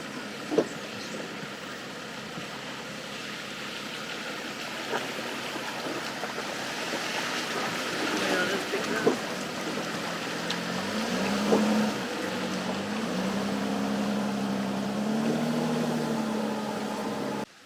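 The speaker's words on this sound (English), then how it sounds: "the van is crossing a river" A van drives through a river at a campsite in Brazil, giving a steady, continuous rumble of the engine and body with water sloshing and churning around it, plus occasional creaks and knocks.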